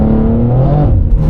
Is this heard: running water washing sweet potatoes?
no